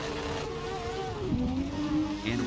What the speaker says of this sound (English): Seeing some revving, waiting for some lights